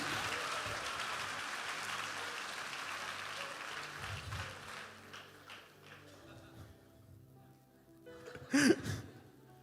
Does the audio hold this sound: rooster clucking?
no